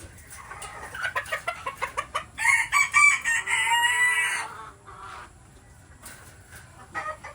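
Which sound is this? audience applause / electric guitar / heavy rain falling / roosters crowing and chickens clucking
roosters crowing and chickens clucking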